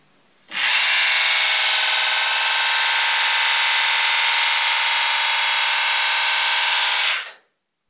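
A Fasiz split-end hair trimming machine whirs loud and steady for about six and a half seconds, a close, even motorized buzz that starts abruptly and cuts off, then a faint click at the end.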